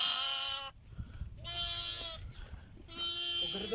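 Goats bleating on a farm of about 300 goats in Abu Dhabi: a loud, close bleat opens, followed by two more drawn-out bleats after brief pauses, over faint background rustle.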